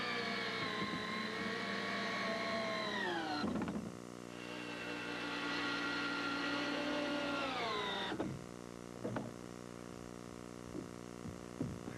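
A power driver sends screws through the walls of a wooden children's playhouse into its deck. It makes two long whirring runs whose pitch sags as each screw seats, then short bursts and clicks follow.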